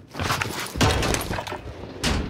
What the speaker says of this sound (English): Who smashed through doors?